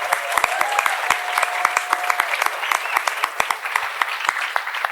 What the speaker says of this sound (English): can we please have a big round of applause for Team Getahead?